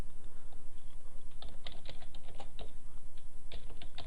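Fingers typing on a computer keyboard, a quick irregular run of light plastic key clicks, close up and fairly quiet, with no voice over it.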